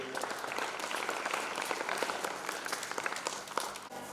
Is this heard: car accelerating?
no